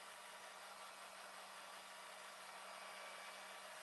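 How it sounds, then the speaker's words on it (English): A hair dryer on its cool setting blows with a steady, even whooshing hum, constant and unbroken from start to finish, with no talking. "So a hairdryer on cool."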